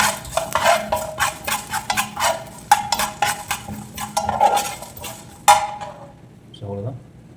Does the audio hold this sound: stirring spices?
yes